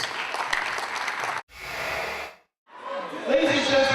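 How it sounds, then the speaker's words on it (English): An audience at a First Bank youth empowerment event at the University of Lagos breaks into applause in bursts separated by brief silent gaps, with crowd voices mixed into the clapping. "please a round of applause for yourselves."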